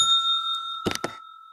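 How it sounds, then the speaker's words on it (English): A small hand bell rings out twice in two bright, quick bursts at a Lunar New Year celebration, over a steady high ringing tone, close and clear with no talk. "I gotta get my bell here"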